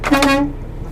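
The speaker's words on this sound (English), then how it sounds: "these kids next to me were wanting me to honk my air horn" A truck's air horn gives one short, loud honk near a drop yard at a Tyson Foods pickup in Rogers, Arkansas, then cuts off, leaving a steady low engine rumble.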